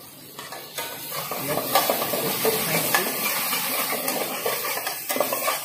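Onions frying with ginger garlic paste in a pan for a mutton Nilgiri korma, an even sizzle broken by repeated stirring clatter and spoon scrapes, close up and without speech.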